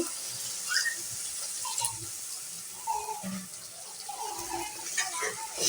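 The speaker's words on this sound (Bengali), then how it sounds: "আমি অল্প করে পানি দিয়ে দিচ্ছি।" A little water is poured into a pan of spinach being cooked with singi fish. A close, continuous splashing gush runs throughout, with a faint voice now and then.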